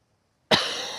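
A single sharp cough bursts out close to the microphone after a moment of silence, with a brief airy tail.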